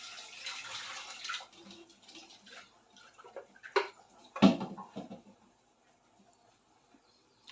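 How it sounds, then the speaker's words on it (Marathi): Water pours and splashes into a pot of masoor dal for a second or two, followed by a couple of soft clunks and then near silence. "आता ह्यामध्ये थोडंसं पाणी घालते"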